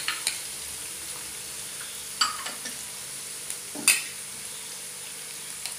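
Chopped onion sizzles steadily in a hot pan of oil, with occasional sharper scrapes and clinks as a spoon stirs it, close and continuous with no talking.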